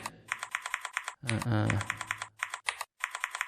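Rapid clicking keystrokes on a computer keyboard while C++ code is typed, in quick bursts with short pauses, briefly broken by a louder burst of talk in the middle.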